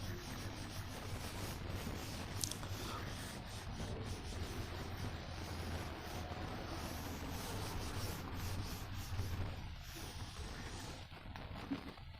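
Writing is rubbed off a classroom board with a continuous faint, close, scratchy rubbing that holds steady for about twelve seconds. There is no talking over it.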